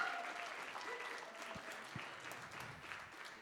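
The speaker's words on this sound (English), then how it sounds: "give them a round of applause" An audience at a school senior signing ceremony applauds its support persons with a steady, even round of clapping that fills a room and holds for the whole stretch.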